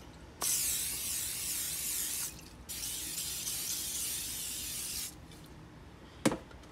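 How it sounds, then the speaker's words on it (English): Cooking spray hisses into an iron skillet in two long bursts, close and loud, followed by a brief clink near the end. "So you want to go ahead and spray it."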